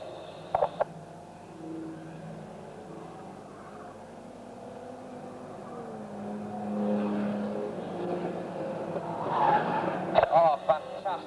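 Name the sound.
banger racing car spinning round on track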